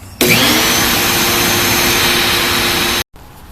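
A 6.5 horsepower leaf blower vac blows air into a Suzuki Samurai gas tank, a loud, steady whining roar that starts abruptly and cuts off sharply after about three seconds, followed by quieter room noise.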